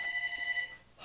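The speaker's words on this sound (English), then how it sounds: "that's just the phone" A telephone rings with a steady electronic tone in a home workshop where Roman candle fireworks are being explained, sounding close and fairly loud before it breaks off into quieter noise.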